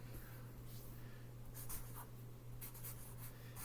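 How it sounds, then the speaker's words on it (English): Pen or pencil scratching out handwritten notes late at night, faint and close, with short scratchy strokes coming in bursts over a steady low electrical hum. "I forgot to write this down"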